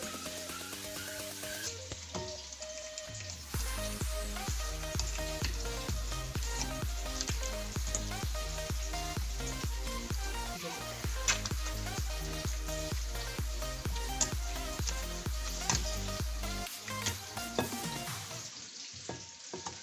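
Cooked eggplant for baingan bharta is mashed in a hot pan, with a rapid, regular series of pressing thuds over a continuous close sizzle and no talking.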